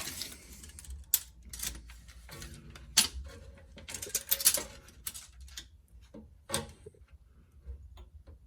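Ratchet wrench clicking while a rear adjustable toe arm is fitted to a BMW M2, with sparse bursts of close mechanical ratcheting and metallic ticks separated by quieter gaps.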